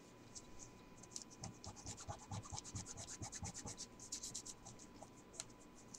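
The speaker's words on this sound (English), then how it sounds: "I'm just rubbing off the excess glue." Excess dried glue being rubbed off a surface by hand, giving a run of close, dry scratching and scraping strokes in quick irregular bursts, with faint talk in the background.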